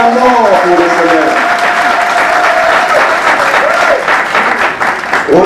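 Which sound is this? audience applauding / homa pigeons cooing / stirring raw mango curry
audience applauding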